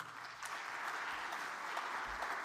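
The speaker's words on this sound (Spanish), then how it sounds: "Un aplauso para él, por favor." A conference audience applauds steadily, a dense wash of clapping at moderate distance that stays even throughout without any talk over it.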